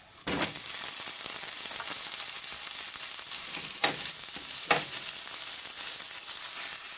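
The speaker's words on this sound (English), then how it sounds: "Giving it a stir." Mixed vegetables being stirred in a frying pan for frankfurter and egg fried rice, with steady sizzling throughout and a few sharp scrapes of the spatula against the pan.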